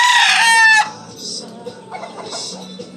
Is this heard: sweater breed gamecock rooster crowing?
yes